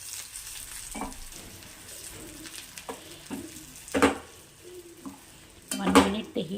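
Bajji mirchi curry with roasted gram powder stirred in a pan: a faint sizzle runs underneath while a spoon makes scattered scrapes and taps, with a few louder strokes near the end.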